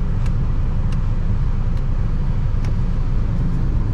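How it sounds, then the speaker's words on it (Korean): A Mini Countryman facelift diesel cruising, its engine a steady low drone mixed with road rumble inside the cabin, even and unbroken throughout. "BMW 계열사에 있지만 디젤 소음이 살짝은 들립니다"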